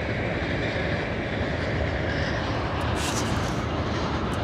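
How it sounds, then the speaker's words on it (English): A long train passes near a road in Wasilla, Alaska, a loud, steady rumbling roar that holds at a constant level throughout the clip. "Oh, that's a long train."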